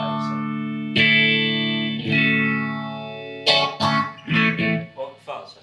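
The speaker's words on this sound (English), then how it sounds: "I think phaser was this marvellous sound in the 70s" Electric guitar through a PhazeX phaser pedal, a few struck chords ringing out with a sweeping phased tone, followed by quicker choppy notes, played alone.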